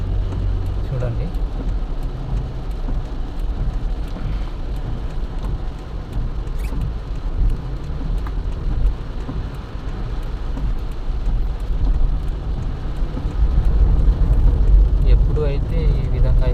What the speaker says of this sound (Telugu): పొద్దున్నుంచి ఒకేలాగా కురుస్తుంది వాన అయితే కువైట్లో ఇప్పుడు